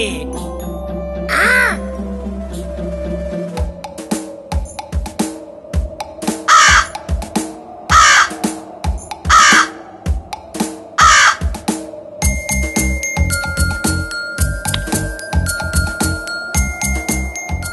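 Crow caws, loud and repeated in several separate bursts, in an animated Telugu fable about a thirsty crow, with cartoon music and chiming effects around them.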